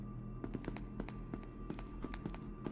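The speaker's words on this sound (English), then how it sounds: "I just heard a random footstep, that's not healthy." Light, quiet footsteps tap in an uneven rhythm inside SCP: Secret Laboratory, a multiplayer horror game, over a steady low hum and faint game ambience, with no one speaking.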